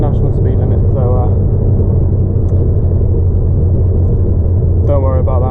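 A Ford Focus ST engine drones as a steady, loud low rumble while the car drives along a national speed limit road. Someone talks briefly near the start and again at the end.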